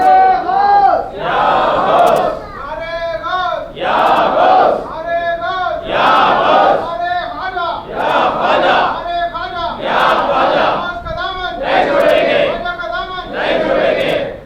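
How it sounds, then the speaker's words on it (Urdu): A crowd at a religious gathering in a mosque chanting Nara-e-Ghaus slogans, loud repeated call-and-response shouts in a regular rhythm, with a leading voice alternating with the massed crowd's answering cries, about seven cycles. "ایک مرتبہ جم کے نعرے غوث لگائیے"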